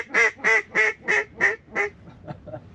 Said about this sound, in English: I think those were gadwall.